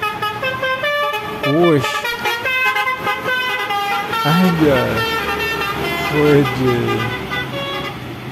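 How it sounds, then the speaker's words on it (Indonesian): Telolet Basuri musical bus horn, Anaconda version 3, fitted even on a Brimob police vehicle, plays repeated rising and falling melodic toots over traffic noise, loud and near, with people talking and exclaiming over it. "Telolet Besuri versi 3 Anaconda ya"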